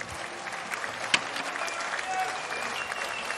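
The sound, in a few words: crowd applauding at canoe sprint world championships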